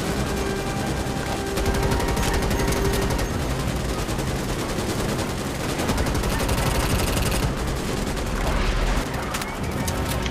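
Gunfire in the Starship Troopers Extermination video game: dense, continuous automatic weapon fire with rapid bursts and booms layered over a busy battle din, loud throughout with no talk.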